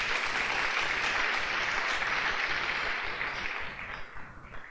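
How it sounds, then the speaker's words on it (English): Conference audience applause in a large room, a broad, sustained wash of many hands clapping that holds steady, then thins and tapers near the end, heard on its own without talk. "So just one more round of applause for everybody that's been up here."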